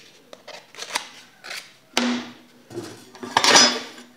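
Car body putty being mixed on a board with a spreader, heard as close, irregular scraping and tapping strokes in short bursts, loudest toward the end.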